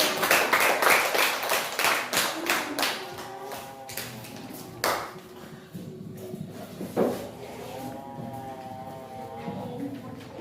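Clapping in a classroom, a run of distinct, fairly close claps that slows and then gives way to children's voices with a few isolated claps among them.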